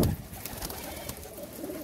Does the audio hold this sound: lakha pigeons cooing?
yes